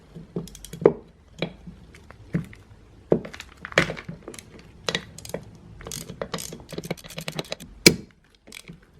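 Close, crisp ratcheting clicks in short irregular bursts as a T25 Torx driver works screws out of a BMW transfer case actuator, quiet between strokes with no talking.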